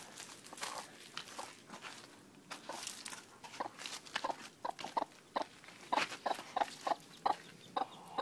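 A hen that has just hatched three chicks clucks in short, repeated close-up bursts, growing more frequent and louder toward the end, with faint rustling between.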